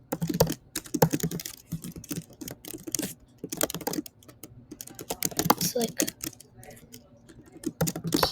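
Computer keyboard keys pressed in irregular bursts of clicks, close and fairly loud, with a person talking briefly over the typing.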